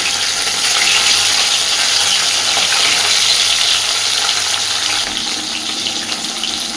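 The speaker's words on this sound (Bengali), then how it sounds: "হালকাভাবেই ভেজে নেব" Bele fish frying lightly in hot oil gives a steady, continuous sizzle and hiss that stays fairly loud and even from start to finish, with no voices.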